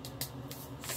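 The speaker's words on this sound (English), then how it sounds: "Spritz and go ahead and spray myself down." NYX Matte Finish setting spray mists out in a few quick, close hissing spritzes, three or four short bursts in about a second with no speech.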